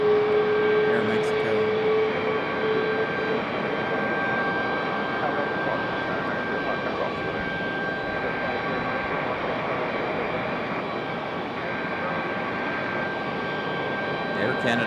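An Aeromexico airliner's jet engines roar steadily at the airport, a broad continuous rumble with a faint high whine, heard from some distance.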